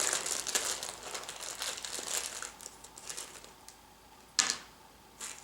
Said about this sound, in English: we will open up the bag and take out the new